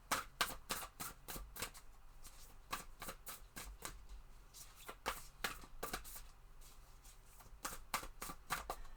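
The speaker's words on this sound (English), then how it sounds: "Maybe I should start pre-shuffling these cards too." Tarot cards being shuffled in quick repeated riffles, crisp bursts in an uneven rhythm, close by and alone without talking.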